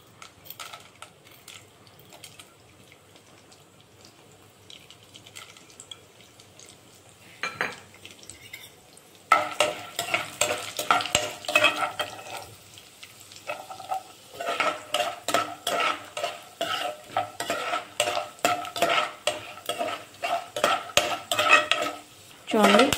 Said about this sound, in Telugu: ఆయిల్ హీట్ ఎక్కిన తర్వాత మనం ముందుగా తీసి పెట్టుకున్న పచ్చెనగపప్పు, పల్లీలు వేసుకోవాలి.